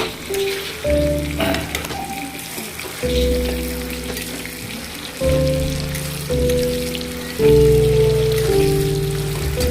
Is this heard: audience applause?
no